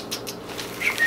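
A pet bird beats its wings close by in a few quick flutters and soft flaps, with no talking over it.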